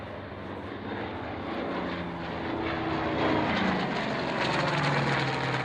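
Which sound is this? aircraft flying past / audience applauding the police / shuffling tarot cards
aircraft flying past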